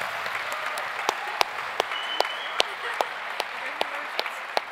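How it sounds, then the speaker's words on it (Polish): An audience at a gala applauds continuously, with a few sharper individual claps standing out against the steady wash of clapping. "Wielkie brawa dla niej."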